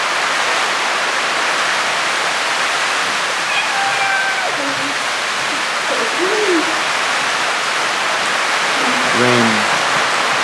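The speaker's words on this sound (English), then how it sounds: "Rain." Steady rain on an outdoor garden, a dense continuous hiss that fills the whole clip, with faint bird calls and a few low tonal sounds rising over the wash.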